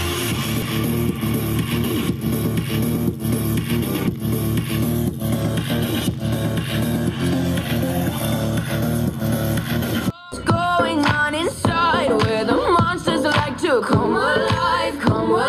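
A Polytron active speaker plays music loudly as a sound test, a dense full-range track running continuously, with a brief cut and a change to a more vocal-heavy passage near the end.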